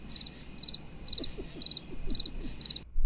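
Steady crickets chirp in repeated bursts against a quiet background, with a few low croaking notes underneath, before the sound cuts off abruptly.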